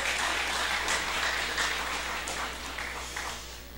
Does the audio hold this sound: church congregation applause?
yes